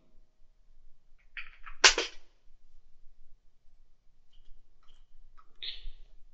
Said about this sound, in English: I'm going to just type in my name.